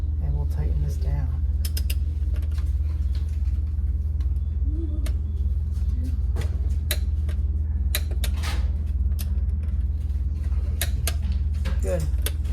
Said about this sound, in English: Lock it down and give this a tighten here.